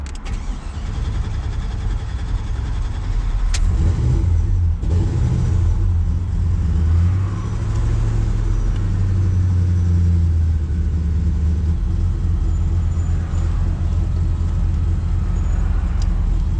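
A Chevy car engine cranks and catches close by, then settles into a steady, rumbling idle that runs on for the rest of the stretch with no talking.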